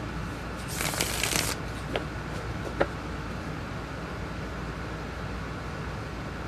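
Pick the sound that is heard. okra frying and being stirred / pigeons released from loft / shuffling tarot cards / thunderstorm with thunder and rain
shuffling tarot cards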